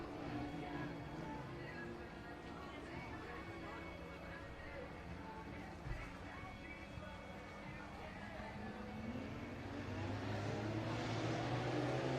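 Race cars roar off at the start of a Modified and Sport Compact race at Buena Vista Raceway, a steady engine drone under an announcer's continuous commentary, building louder near the end as the field accelerates.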